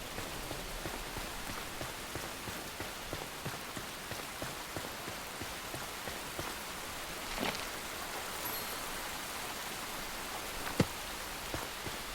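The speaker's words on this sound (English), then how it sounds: "typical British weather. It's raining." Steady rain falling on surfaces in the game Enshrouded, a dense continuous patter with a few louder drips, no voices.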